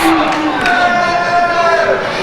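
A wrestling crowd cheers and roars at a UK Pitbulls tag-team match, a steady loud swell running under a commentator's voice throughout.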